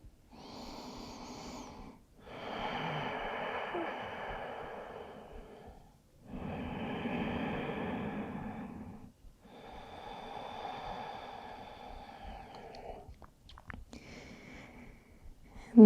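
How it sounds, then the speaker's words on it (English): Slow, deep breathing during a beginner yoga practice: several long, close inhale and exhale cycles with brief quiet pauses between them, heard alone with no talk. "listen to the sound of your breath here"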